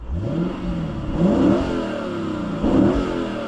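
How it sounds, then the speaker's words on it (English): A 2016 Lexus GS F engine revs up twice in close succession, each throttle blip swelling loud and near before easing back to a steady idle. "Let's rev it up. Oh my god, that sounds so good."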